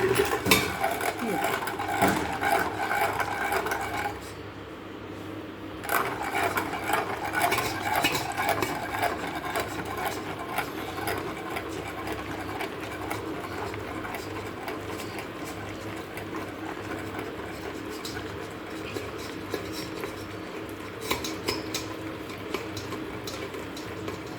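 Sweet puran filling for puran poli is ground fine in a kitchen grinder, making a whirring, rattling mechanical sound that pauses once briefly and then runs on steadily, with some background clatter.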